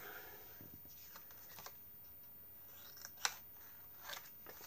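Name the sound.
scissors cutting corners of paper for a mini album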